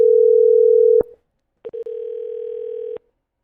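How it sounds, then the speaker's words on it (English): A telephone call rings through the line, a steady electronic tone holding for about a second, then a short pause with clicks before a second, slightly quieter tone sounds for over a second. "It is ringing, ringing,"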